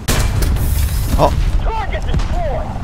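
Heavy bomb explosions in War Thunder during a tank battle with a Leopard 2A4M CAN, one loud boom at the start followed by rumbling blasts, with excited speech over them.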